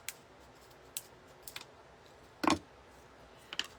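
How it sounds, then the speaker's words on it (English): Scissors snipping the end off a paper mould, a handful of sharp isolated clicks and one louder cut, quiet room, no talk. "I'm going to snip off this end."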